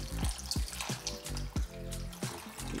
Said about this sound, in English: Kenzo, help me pour 1 cup of water in here, please.